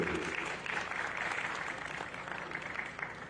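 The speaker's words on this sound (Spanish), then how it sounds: "Fuerte el aplauso para él, por favor." A short burst of audience applause for a municipal secretary general at a formal welcome: dense, even clapping at moderate volume, fairly distant and without voices, lasting about three seconds.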